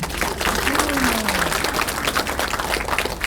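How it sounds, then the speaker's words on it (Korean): An audience applauds at a parliamentary report meeting, steady dense clapping from a crowd filling the room at constant loudness, with a brief tonal sweep riding over it near the start. "다시 한번 김정재 의원 활동에 큰 성원의 박수 부탁드립니다."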